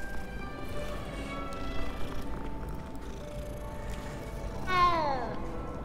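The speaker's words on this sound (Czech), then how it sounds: "Počkej, tam je nějaký kocour." A short meow from a cat in the Hogwarts Legacy video game, set outside a castle, rises near the end over steady game ambience and soft footsteps, fairly faint in the mix.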